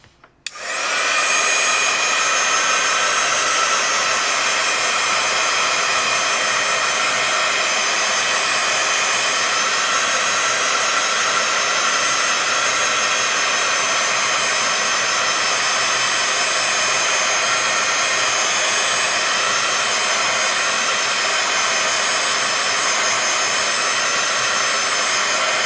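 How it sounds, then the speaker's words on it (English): A heat tool switches on with a click and blows hot air in a loud, steady roar, drying paint and running continuously without talk. "I'm going to take my heat tool"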